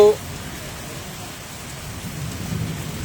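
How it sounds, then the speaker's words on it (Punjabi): Heavy rain pours down in Tapa Mandi, Punjab, in a continuous hiss, with a short sharp sound at the very start before the steady downpour. "ਮੀਂਹ ਪੈਣ ਲੱਗ ਗਿਆ ਲਾਈਟ ਚਲੀ ਗਈ ਕਾਫੀ ਤੇਜ਼ ਬਰਸਾਤ ਹੋਣ ਲੱਗੀ"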